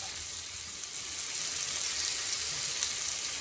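Spices with tomato, ginger, onion, garlic, chili and turmeric sautéing in a pan make a continuous moderate sizzle and hiss, close and even, swelling slightly toward the end, with no talking.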